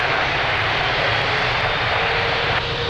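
An Angola Airlines Boeing 777 is at takeoff at Lisbon Airport, with its jet engines producing a loud, continuous broadband roar that holds steady through the whole short stretch without voices.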